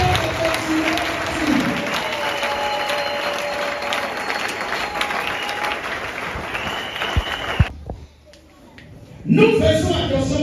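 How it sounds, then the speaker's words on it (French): Sustained audience applause fills an evangelism campaign gathering, dense clapping with crowd noise and a loud voice over it, cutting out near the end before sound resumes. "Acclamez."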